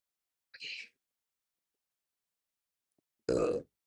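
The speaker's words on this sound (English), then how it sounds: "Sorry for burp." A single short burp close to the mic, after a brief faint throaty sound and a long silence.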